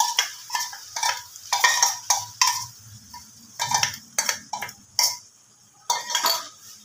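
Marinated chicken goes into a pan of masala, heard as a series of close metallic spatula clinks and scrapes against the pan in an uneven rhythm, with soft sizzling between strikes.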